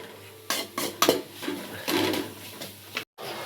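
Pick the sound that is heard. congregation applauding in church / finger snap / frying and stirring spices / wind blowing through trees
frying and stirring spices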